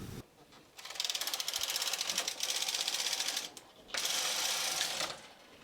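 A Brother knitting machine with a single motif cam knits a row as the carriage is pushed across, producing a loud rapid mechanical clatter in two bursts with a short pause between them.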